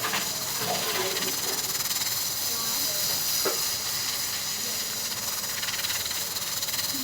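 Chicken shami kababs fry in hot oil with a steady, even sizzle and hiss, close and moderately loud throughout, joined by occasional faint clinks.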